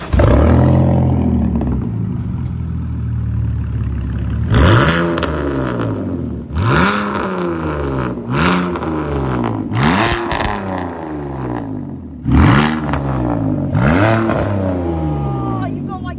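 A BMW car engine starts and revs repeatedly close up, rising and falling whooshing roars in several sharp bursts over a steady idle.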